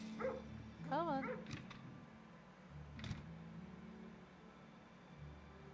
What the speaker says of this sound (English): I don't want to pet the dog.